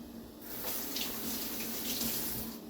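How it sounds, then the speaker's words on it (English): Kitchen tap water gushes into a sink as vegetables for a ground turkey chili are rinsed, with a steady close rush of running water and no talking. "Let me rinse these off."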